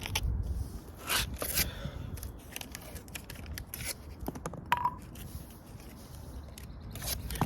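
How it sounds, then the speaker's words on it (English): Tape rips and crackles in short, fast strips while being pulled and pressed around the emblem on a 2022 BMW X3. The tearing bursts come in a quick cluster, then quieter scraping follows. "So we're gonna do the same thing, just tape it."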